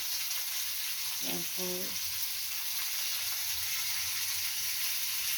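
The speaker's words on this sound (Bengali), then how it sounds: "পটলটা ভাজা করে" Pointed gourd (potol) frying in a pan gives a steady, close sizzle that lasts throughout, with a brief voice heard partway through.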